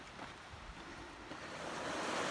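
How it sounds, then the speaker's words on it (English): Broadband rushing water from a river growing louder along a wilderness trail, a steady continuous roar that swells toward the end with no talking. "That river's getting louder."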